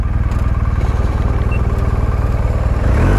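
Motorcycle used for blood transport, its engine running steadily close by with a rapid, even pulsing throb, loud and continuous throughout, with a slight rise in intensity at the very end.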